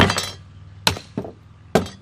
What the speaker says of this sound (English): you can just simply take a hammer